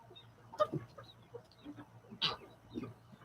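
A guinea fowl on a roof gives a few sharp, scattered calls and clucks, fairly close, amid quiet outdoor background with a low steady hum.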